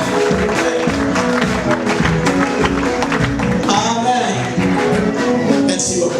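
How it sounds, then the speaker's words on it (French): A church congregation at a church dedication applauds, producing steady, dense clapping that fills the room, with some voices and background sound mixed in throughout. "Applaudissons."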